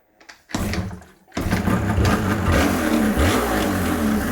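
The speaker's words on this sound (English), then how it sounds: "Right, so the engine's running." Yamaha TDR250 motorcycle with a warm engine, heard in a garage starting up after a few brief cranks and settling into a loud, steady, buzzy two-stroke run with slight revving.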